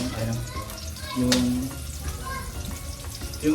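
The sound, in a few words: onion frying in pan for sinigang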